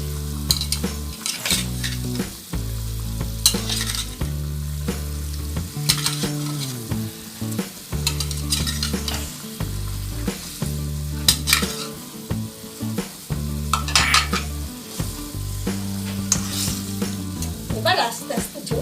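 Rui fish goes into a pot for a home-style Bengali fish curry, setting off a loud continuous sizzle and bubbling, with stirring scrapes and utensil clinks against the pan throughout.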